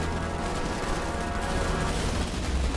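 Battle sounds from the Starship Troopers Terran Command video game, with a grenade explosion and rapid gunfire rattling continuously at moderate volume under a dense, sustained din.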